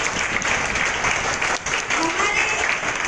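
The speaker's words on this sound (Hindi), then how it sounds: "We will clap our hands and we'll wish him hallelujah." A church congregation at a gospel youth camp claps for someone's birthday, a dense, sustained round of applause with voices heard underneath.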